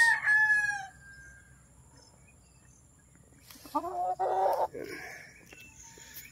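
A lame young gamefowl stag crows twice: a short, clear crow up close at the start, then after a quiet pause a rougher, harsher crow with some clucking, with no talk over it.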